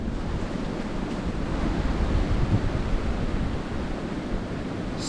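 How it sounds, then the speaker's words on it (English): Strong Arctic blizzard wind outdoors near flowing water in woods, a dense continuous roar with buffeting gusts hitting the microphone, loud and steady throughout with no voices. "Super windy out here right now."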